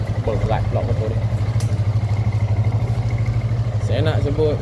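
A motorcycle engine idles steadily with a low, even putter throughout, while someone talks over it.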